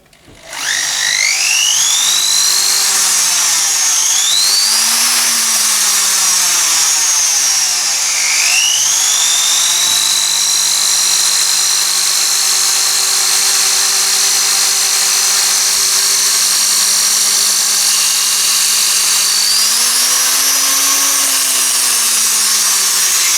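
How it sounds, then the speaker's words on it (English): Chinese Foredom-style SR series flexible shaft power tool, 230 volt 1/6 HP motor hanging on its hanger, starting up and whining steadily, pitch sliding up and down with speed changes, close and loud with no talking. "so I'll start it up to show you what it looks like when it's going on the"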